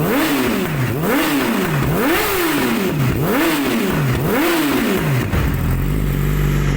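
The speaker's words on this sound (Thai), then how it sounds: "อ้เสียงท่อเล้าใจจริงลั่นมากๆเลยนะครับ" A 2017 Yamaha YZF-R6 ABS with an aftermarket loud exhaust revs repeatedly, five sharp rising-and-falling throttle blips in a steady rhythm, close by, then settles into a rumbling idle.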